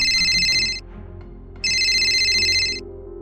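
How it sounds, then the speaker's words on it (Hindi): A phone ringtone plays two loud electronic bursts of bright, buzzy trilling, separated by a short gap, over a low background hum. "तभी उसका फोन बजने लगा"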